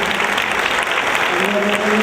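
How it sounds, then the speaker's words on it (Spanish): An audience at a talk on violence against women applauds to close a guest's appearance, a short, steady burst of clapping with faint voices underneath. "Despidamos con un fuerte aplauso a nuestra invitada Rosa Cobo."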